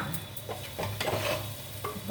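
A spoon stirs raw prawn curry with tender tamarind leaves in a pan, giving repeated scraping strokes over a soft, steady sizzle, close and moderately quiet with no talking.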